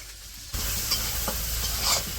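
Onion and green chilies fry in mustard oil in a pan for a village-style bottle gourd and shrimp curry, a close steady sizzle that jumps up sharply after a quiet start, with soft stirring scrapes throughout.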